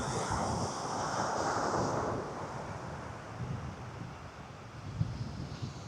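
Wind gusting across Kewarra Beach, a broad steady roar buffeting the microphone with surf washing underneath, strongest in the first two seconds, then easing slightly with a brief knock near the end.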